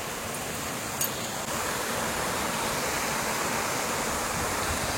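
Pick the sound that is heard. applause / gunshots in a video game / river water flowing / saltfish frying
river water flowing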